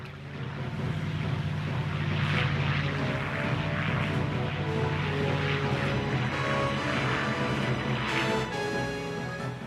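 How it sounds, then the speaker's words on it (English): WWII propeller aircraft launching from an aircraft carrier, a loud sustained droning engine roar with a steady hum that holds throughout, no voices over it. "Ozawa launched his remaining carrier aircraft."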